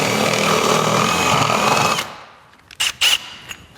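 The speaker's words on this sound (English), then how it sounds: "So you have to drill a hole up through the top." A power drill boring a hole up through the top of a fixture during an air compressor install in a garage runs loud and continuous for two seconds, then stops, followed by two short bursts.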